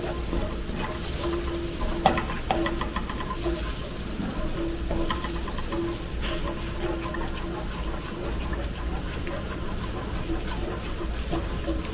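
Butter melting in a pan for a homemade creamy lasagna, a steady soft sizzle and frying crackle running throughout with occasional stirring clinks, close and continuous.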